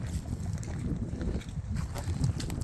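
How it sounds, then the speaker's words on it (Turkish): Wind on a cold, windy day buffets the microphone with a continuous rough rumble and gusty low roar, loud and close throughout with no clear pauses. "Hava soğuk ve rüzgarlı."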